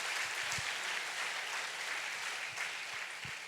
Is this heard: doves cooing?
no